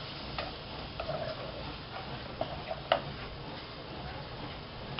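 A spoon stirs sausage pasta sauce seasoned with cumin and pepper, giving soft, irregular taps and scrapes against the pot over a steady low sizzle, close and fairly quiet.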